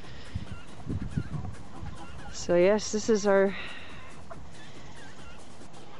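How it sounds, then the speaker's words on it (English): Hens clucking in a home garden, a short burst of loud, close calls in the middle, with someone talking briefly before them and low rustling outdoor noise around. "these are the hens now."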